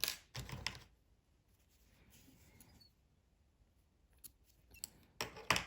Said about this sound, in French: je vais pouvoir le couper